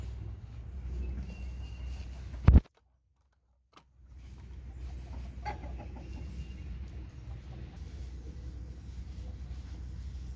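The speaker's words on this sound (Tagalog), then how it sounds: "yan ang ating mga manok" Free-range chickens cluck softly in a forest against a steady low outdoor rumble, with a sharp brief thump and a short stretch of near silence midway.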